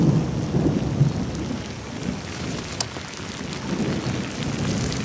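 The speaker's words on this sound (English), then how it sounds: "OK, you can cut the rain." Steady rain pours down in a continuous hiss, with low rumbling thunder rolling underneath and a sharp crack partway through.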